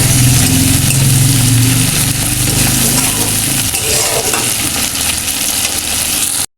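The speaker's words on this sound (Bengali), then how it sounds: "টমেটোটা দিয়ে ভালো করে ভেজে নেব।" Chopped tomatoes frying in a pan with browned onions, a loud continuous sizzle close by with a low hum early on, ending abruptly.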